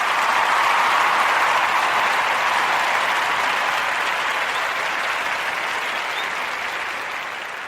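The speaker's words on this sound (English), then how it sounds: "round of applause." Steady, loud audience applause at a Folktales For Grown Folks storytelling event, dense continuous clapping from a crowd that tapers slightly toward the end.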